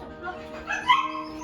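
A family dog whimpers and gives short yipping barks nearby, rising to a louder whine midway through the brief moment.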